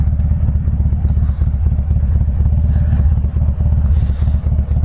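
A custom Harley-Davidson Fat Bob rumbles close by as it rides. The engine gives a loud, continuous low thumping pulse with no talk.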